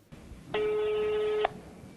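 A single ringback tone from an unanswered telephone call plays as one steady electronic beep lasting about a second, clear and close against a quiet background.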